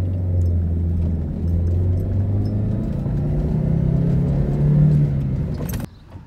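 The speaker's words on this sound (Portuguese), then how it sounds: "Vamos dar uma puxadinha aqui no motor dela." A Chevrolet Blazer 2.2 engine revs close by, a steady low rumble that swells and holds through a couple of throttle pulls before dropping off abruptly near the end; no talking.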